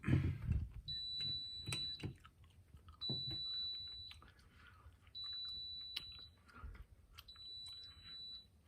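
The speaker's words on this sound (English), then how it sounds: "Wait for my alarm here to stop." A high electronic alarm on a well water whole-house filtration system chirps in four evenly spaced beeps, fairly faint, over clicks, handling noises and soft chewing-like sounds close by.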